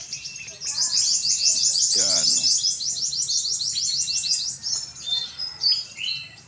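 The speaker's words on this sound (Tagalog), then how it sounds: "Maingay po ang mga ibon." Many birds chirp and sing continuously in a rural provincial area of the Philippines, a dense, loud chorus of high calls throughout, with a brief voice near the start.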